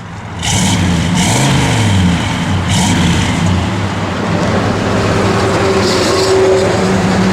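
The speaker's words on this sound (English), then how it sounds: "Give it a little rev." A 1970 Chevrolet Malibu with a 400 engine revs briefly, its loud engine roar rising and settling into a steady idle rumble with no talking.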